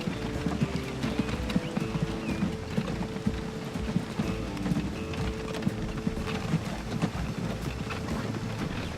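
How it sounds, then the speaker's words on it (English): Horse teams clip-clopping up a steep grade in the transport simulation game Transport Fever, a steady stream of hoof beats over a dense, busy background of game ambience and engine-like rumble. "those horses are having a little bit of trouble, climbing upwards, but it doesn't really matter because it's a steep grade"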